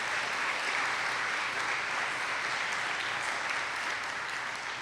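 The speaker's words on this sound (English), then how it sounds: "How about a big round of applause?" An audience at a varsity athletic awards night gives a round of applause, a continuous, uniform wash of many hands clapping that holds steady throughout before easing slightly at the end.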